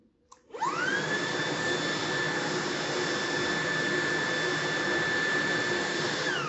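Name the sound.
cordless stick vacuum cleaner at full power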